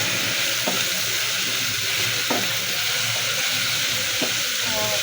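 Vegetables and small fish fry noisily in a pan while being stirred, a loud continuous sizzle with occasional scraping knocks of the utensil.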